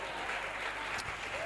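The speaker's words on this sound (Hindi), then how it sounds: "तालियां बजाएं यीशु के लिए जरा।" A church congregation claps for Jesus at a Hindi-language preaching meeting, a steady broad wash of applause throughout, fairly distant and low in level.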